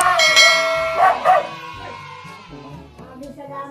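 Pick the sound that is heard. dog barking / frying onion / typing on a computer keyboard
dog barking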